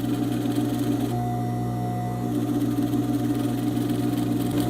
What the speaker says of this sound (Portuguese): E costura devagar, que aí você consegue controlar bem aonde que a sua agulha tá batendo.